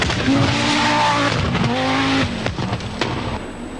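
A Group B Audi Quattro rally car tears along a special stage, its engine revving hard against the rev limiter with sharp gear changes, close and loud.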